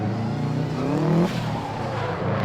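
FormulaG racing cars run flat out around the Ruislip figure-of-8 track, engines droning loud and steady with a rising whine as they pass and a brief tyre squeal, with no talk.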